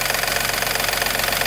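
A tappety car engine idling with a steady, rapid mechanical ticking over a continuous mid-pitched hum, close and fairly loud throughout.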